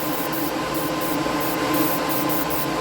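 Outlaw Paints primer hissing from an airbrush in a continuous close, steady spray, with faint rhythmic breaks in the airflow as the trigger is worked.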